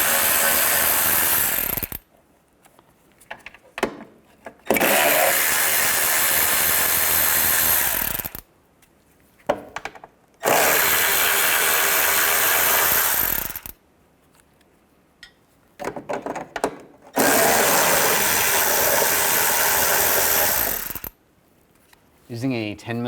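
A ratchet with a 10mm socket works on the bumper cover nuts of a 1998-2010 Volkswagen Beetle, with several loud bursts of rapid clicking separated by short quiet gaps and faint handling noises.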